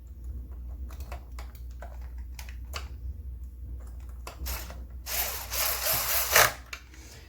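A power drill drives screws back into a Neato Botvac D5 robot vacuum, giving short whirring bursts that build to a louder, longer run near the end, close and without talk.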